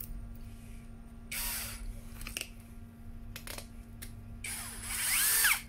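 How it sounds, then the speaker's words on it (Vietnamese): A Toyoko cordless drill runs in short whirring bursts of varying length, close and moderately loud, with gaps of quiet between, the last burst the longest. "Với tốc độ mà nó khoan như vậy ok không?"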